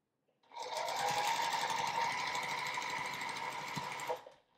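A sewing machine stitches quilt squares together for an Ohio Star quilt block, running as one steady, fast, close whirr for about four seconds, then stopping.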